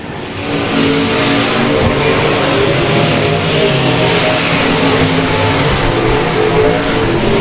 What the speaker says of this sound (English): and his KSG racing engine